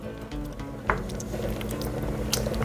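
Thick tomato sauce for pasta alla Norma gets stirred in a pan over low heat, giving soft wet squelches and a couple of sharper spoon taps against the pan, close and steady.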